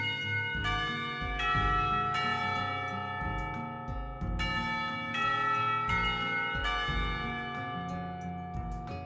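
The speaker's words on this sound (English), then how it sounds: "The lunch bells seem to catch everyone by surprise" School lunch bells in the Katawa Shoujo visual novel game ring out loud and sustained, with layered bright tolling tones struck repeatedly over a rich resonant hum, no talking.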